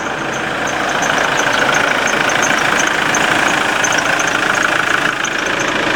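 A common rail diesel engine idles outdoors by a road in Korea, giving a loud, steady, even rumble with a light clattering texture that holds unchanged throughout, with no voices.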